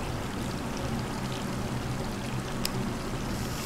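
A shower running in the Resident Evil 3 Remake video game, a steady rushing pour of water, close and even, with one brief sharp tick partway through and no talking.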